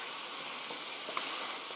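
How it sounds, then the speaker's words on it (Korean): Mushrooms stir-fried in a pan for a spicy chicken dish, giving a steady soft sizzle throughout with a faint stirring tick near the end. "살살 저어가면서 볶아주세요"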